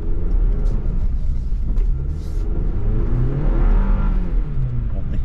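A 2023 Chevy Colorado Trail Boss pickup fitted with a Banks PedalMonster throttle controller gives a loud, deep engine rumble, with rising and falling revs that swell strongest toward the end.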